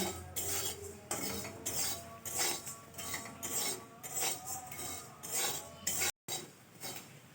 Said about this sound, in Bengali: আমি গ্যাস বন্ধ করে দিয়েছি দিয়ে নাড়াচাড়া করছি